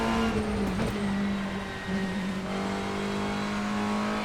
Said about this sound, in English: The noise when you're full throttle going through the gears could be better.